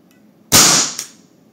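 A Gunsmith GS50 defense pistol fires a single sharp shot, a loud close crack that decays over a fraction of a second, followed by a faint second tick.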